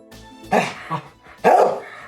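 Dogs in the video game Trails to Azure give two sharp, close barks about a second apart, with a softer yip between them.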